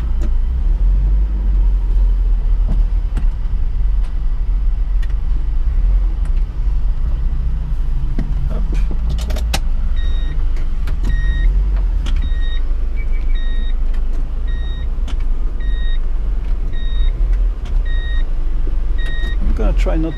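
A 1990 Nissan Pao rolls slowly to park inside, its engine a steady close low rumble throughout, with a repeating electronic chime in the second half and a voice speaking over it.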